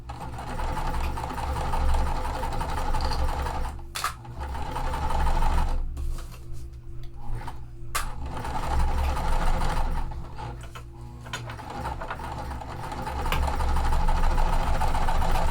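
A sewing machine stitches cotton quilt pieces together in steady, close mechanical runs, with short pauses between seams.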